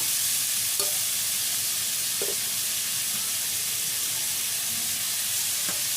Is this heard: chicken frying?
yes